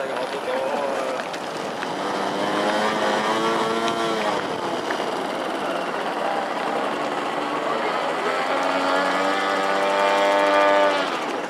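A turbine model aircraft landing at an outdoor airshow gives a steady, loud jet whine with rising and falling pitch as it passes and touches down, with a voice talking over it.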